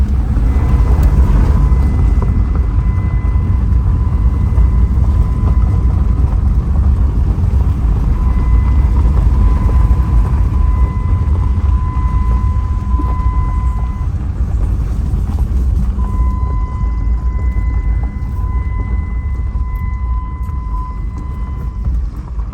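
A Jeep Liberty engine runs under throttle as it hesitates, giving a loud, steady, rumbling drone throughout with faint tonal whine layered on top.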